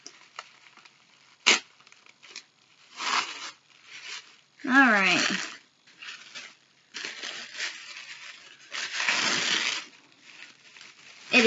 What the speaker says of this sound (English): let me just get this open without ripping this paper here.